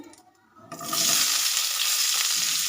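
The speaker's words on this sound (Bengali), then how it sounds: "আলুগুলোকে লাল লাল করে ভেজে নেব" Potato pieces drop into hot oil already seasoned with whole cumin and bay leaf, setting off a sudden loud, steady sizzle after a brief quiet stir, continuing close up without talk.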